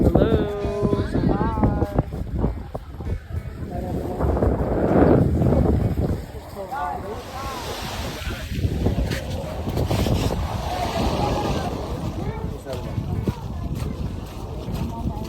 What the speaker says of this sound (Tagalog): Medyo malakas yung alon at hangin.